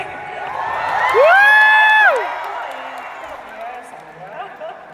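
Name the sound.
audience applause and cheering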